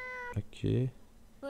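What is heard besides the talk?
black cat meowing in video game Nights of Azure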